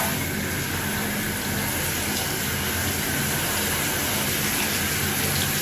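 Water runs steadily while soap is rinsed out of very long dreadlocks, a loud, dense, unbroken hiss and splash from a shower or tap with no talking.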